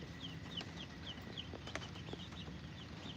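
Older hens and chicks clucking softly in a coop on a rainy day, faint repeated chirpy clucks over a steady rain-like background hiss, with no voices.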